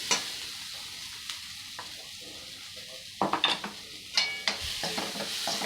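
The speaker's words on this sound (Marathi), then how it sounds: "सर्वात पहिले आपण वाटाण्याची भरड टाकायची" Coarsely ground peas frying in oil in a pan, a steady close sizzle broken by sharp scraping and clinks of a spoon stirring against the pan toward the end.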